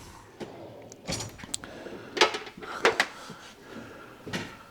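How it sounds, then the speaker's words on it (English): Drawers in a workshop slide open and shut in several quick, clattering bursts with knocks and rattles, fairly close and with no talk over them. "When I find which drawer Sonia keeps the tools in down this end of the workshop."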